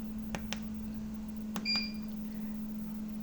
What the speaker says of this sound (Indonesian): Buzzer bisa di off kan kalau mengganggu.